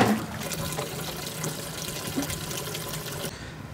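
Water pours steadily at a renowned spring-water station near a pond in Yamaguchi Prefecture, Japan, a continuous splashing rush that stops abruptly near the end.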